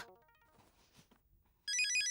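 A telephone ringtone kicks in abruptly and loudly after a stretch of near silence, a bright electronic trill repeating in quick, even pulses.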